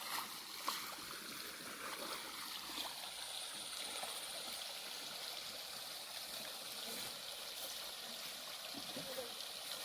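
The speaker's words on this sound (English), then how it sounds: "one of the streams we have in our own country land" A small stream flows through country land in Nigeria with a soft, continuous rushing and gurgle, moderately close and steady, with faint occasional knocks near the start.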